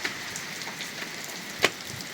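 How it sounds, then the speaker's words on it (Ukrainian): Steady rain falls outdoors on a farm, a soft continuous patter with a few closer drops, faint and with no voices. "Зараз дощик стоїть хороший сьогодні на цілий день."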